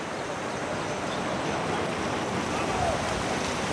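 Floodwater from a dam pouring across a road after a night of heavy rain, a dense continuous roar of rushing water that stays loud and steady throughout.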